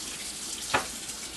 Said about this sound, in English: And I'm going to fill my can up with some hot water.